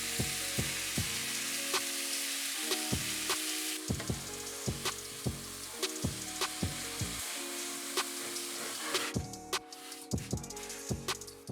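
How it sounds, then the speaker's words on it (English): Sauerkraut and golden onion fry in oil in a pan, giving a continuous bright sizzle broken by repeated woody taps and knocks from stirring. "Then add sauerkraut to the pan and simmer for 5-7 minutes."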